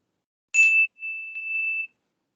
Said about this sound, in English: Ernest, if you buzz that bell one more time